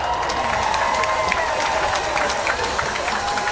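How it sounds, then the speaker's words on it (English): Audience applause and cheering fill a large venue at a swimming nationals opening ceremony after a Junkanoo group performance, a steady dense crowd roar with scattered claps and shouts throughout. "Let us give a round of applause to the New Horizon Junkanoo group"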